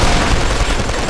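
Rapid, dense gunfire from the Killzone 2 multiplayer video game, a loud continuous burst of overlapping shots and booms filling the whole moment with no voices.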